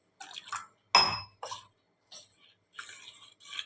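Small splashes of water poured into thick oats dosa batter in a bowl, a few short liquid bursts with light clinks of a vessel, faint and close.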